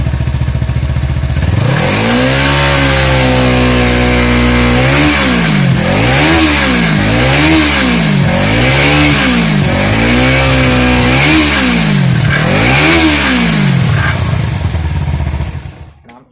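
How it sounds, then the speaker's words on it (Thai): A Kawasaki Z300 motorcycle engine idles, then is revved hard several times in a row, each rev rising and falling, loud and close, water spitting from the exhaust tip. "ทีนี้เดี๋ยวครูจะเร่งเครื่อง"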